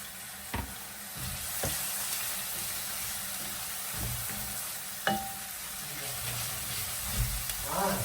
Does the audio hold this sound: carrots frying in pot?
yes